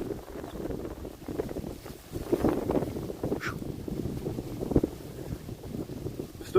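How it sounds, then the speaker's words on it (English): Breezy wind blowing outdoors at Circle B Bar Reserve, a Florida wildlife reserve, a steady low rumbling gust noise buffeting the microphone throughout, with faint wildlife and water sounds in the background and no talking. "Still a little breezy."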